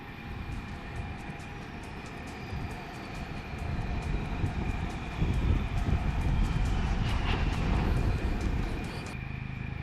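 A HAL Tejas delta-wing fighter jet flying a loop at the Aero India 2019 air show roars steadily overhead, its broadband rumble swelling louder midway through and holding as it passes, with no voices.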